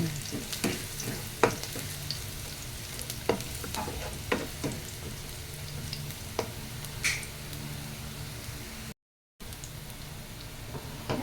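Garlic sautéing in oil in a frying pan, a soft, steady sizzle close by with frequent small clicks and taps of a spatula stirring.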